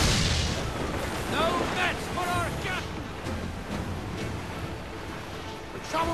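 Ship cannons fire in naval combat in Assassin's Creed IV Black Flag, several loud booming blasts with splashing water, mixed with shouted orders from a crew.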